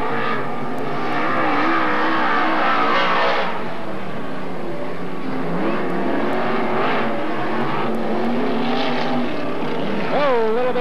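Dirt track race cars at Magic City Speedway in Billings, Montana, a continuous loud engine roar rising and falling as the cars pass, with an announcer talking over it.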